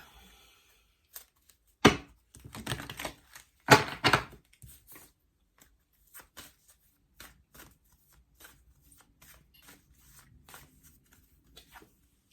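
Tarot cards riffled and shuffled in two short bursts, followed by soft scattered clicks and card handling, close and fairly quiet.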